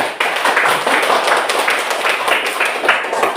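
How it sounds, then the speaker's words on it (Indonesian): Group applause from a classroom discussion session, many hands clapping in a dense, steady burst that stays loud and close throughout without a break. "Tepuk tangan dulu."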